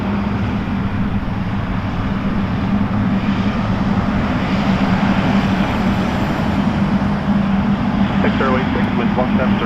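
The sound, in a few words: airliner taking off at Toronto Pearson Airport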